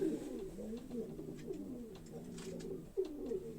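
Several racing pigeons coo softly and repeatedly, low rolling calls overlapping in a quiet, close setting.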